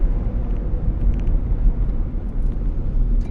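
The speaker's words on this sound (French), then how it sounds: "On entend un petit peu des bruits d'air" Steady wind rush and low road rumble fill the cabin of a moving German-built car with about 22,000 km on it, a continuous broad hum with no talk.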